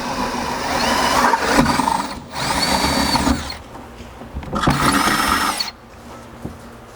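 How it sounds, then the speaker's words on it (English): A power drill fitted with a 5/16 bit and a drill stop bores holes during a Ranger front-bed MOLLE panel install, two or three loud whining bursts separated by short pauses, close and with no voices. "switching to that 5/16 bit with the drill stop"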